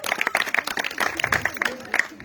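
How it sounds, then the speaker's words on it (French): Audience at a closing ceremony clapping for a participant, scattered, uneven handclaps of a modest crowd, close by and moderately loud, with faint voices mixed in. "Akima, applaudissements pour Akima, s'il vous plaît."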